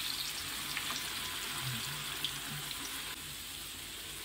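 Chicken vadas frying in hot oil for a Sunday special meal, a steady, close, hissing sizzle that runs evenly throughout with small bubbling crackles and no talk.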